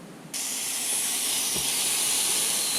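A waffle iron grills 7-Eleven convenience store food, starting with a quiet moment before a sudden, steady hiss of steam rises and holds close and strong to the end.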